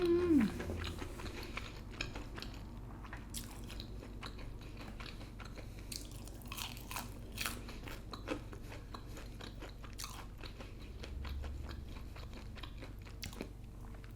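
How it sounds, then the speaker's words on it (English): Crunchy fried Popeyes shrimp being bitten and chewed up close, with repeated crisp crunches in an irregular rhythm over steady low room noise. "Let's try the shrimp."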